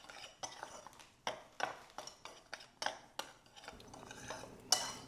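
Dry ingredients with coarse sea salt and baking powder are stirred in a bowl for a pear cake batter, a series of quiet scraping, tapping strokes at an uneven rhythm, close and without speech.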